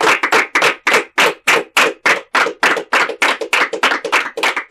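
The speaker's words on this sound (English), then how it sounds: "give yourselves a big round of applause" Participants at a primary school quiz competition clap in a steady, regular rhythm, about three loud, close, sharp claps per second with brief gaps between them and no voices.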